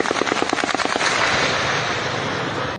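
Rapid bursts of gunfire aimed at peaceful protesters in Pakistani-administered Kashmir, a fast rattling string of loud shots in the first second, then giving way to a dense, continuous roar of noise.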